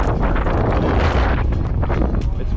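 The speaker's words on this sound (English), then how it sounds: "It's windy too." Strong wind rushes past during a doors-off helicopter ride over New York City. It makes a loud, continuous roar with rough buffeting that stays heavy from start to finish.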